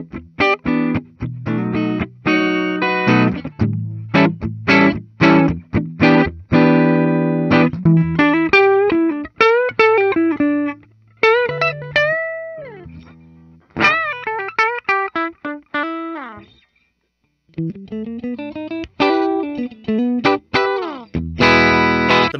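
An Epiphone Joe Bonamassa SG Custom electric guitar on its darker neck pickup plays a busy, distorted lead with quick picked notes, bends and short pauses, loud and close with no voices.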